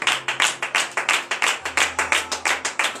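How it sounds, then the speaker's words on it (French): A church congregation at a morning prayer service in Benin claps in acclamation. Steady, rhythmic hand claps repeat evenly, loud and close, with no talking over them. "Donnez de vive acclamation à l'Éternel."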